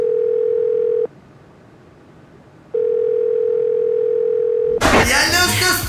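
An outgoing telephone call's ringing tone, with two long steady beeps separated by a pause, followed by a burst of loud voices talking.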